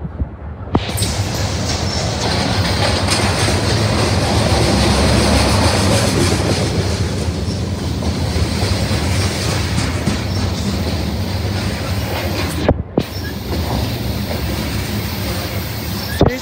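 A CSX freight train rumbles past close by, loud and steady, its cars rattling and clacking on the rails for the whole stretch.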